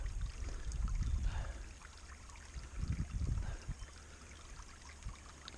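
Water sloshing and pouring in a gold pan at a creek, swirling in low uneven surges with trickling and dribbling sounds close by, no talking.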